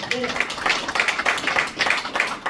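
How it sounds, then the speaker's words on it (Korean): A small group claps in quick, fairly even bursts during a workplace first aid training session for supervisors, right after a volunteer practices abdominal thrusts for choking. The clapping is moderately loud, lasts throughout, and is thin rather than a full crowd. "박수 좀 쳐주세요."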